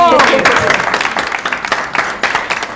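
Applause from residents and staff welcoming a new resident, Madame Landry, to their residence: loud, dense clapping throughout, with voices calling out over it.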